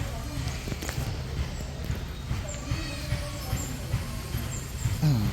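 Faint hooves clop irregularly on a hard surface at a distance, mixed with background chatter and ambient noise.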